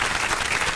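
Studio audience of a talk show clapping, a short dense burst of applause from a small crowd, steady and close.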